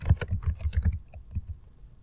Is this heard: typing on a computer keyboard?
yes